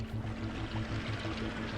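Floodwater from a swollen river rushes in a steady, churning wash, carrying away belongings from the bank, a continuous close roar with no voices.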